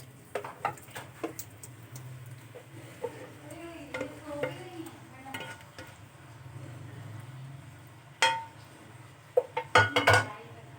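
A yogurt and bottle gourd curry mixture is moved into a bowl, with scattered clinks and scrapes of utensils against metal and glass, including a louder burst of clattering near the end.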